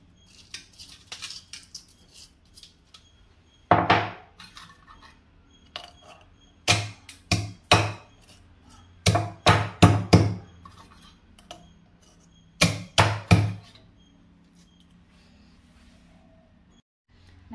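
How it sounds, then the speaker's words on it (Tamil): Crab is pounded in a mortar for South Indian crab rasam: several bursts of sharp, heavy thuds come in quick clusters of two to four strikes, separated by quiet pauses, loud and close, with no talk. "பாருங்க, நல்லா இடிச்சுக்கணும்."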